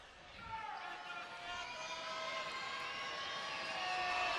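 A capacity basketball crowd in Worcester at a Surrey vs. Worcester game gradually swells in volume. The crowd noise builds steadily beneath a commentator's voice.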